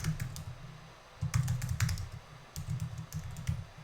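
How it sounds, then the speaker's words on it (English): Quiet, close keyboard typing on a Mac computer as a directory name is entered, with irregular clusters of soft key clicks and brief pauses between bursts. "I will just type this in real quick"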